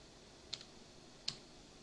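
Two isolated, faint clicks from a computer keyboard key, the V key, spaced under a second apart in a quiet room with no speech.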